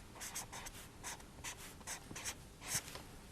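Pen or pencil scratching on paper while algebra is written out, a quiet close series of short strokes in uneven bursts with small gaps between them.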